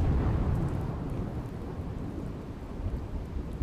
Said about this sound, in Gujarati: વડોદરાના સાવલી તાલુકામાં કમોસમી વરસાદ